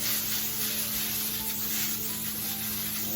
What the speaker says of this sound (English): just spray it good and well